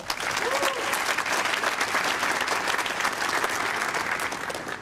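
Conference audience at PromCon EU 2024 applauding a speaker, steady, dense clapping from a sizable crowd in a hall, sustained evenly across the whole stretch.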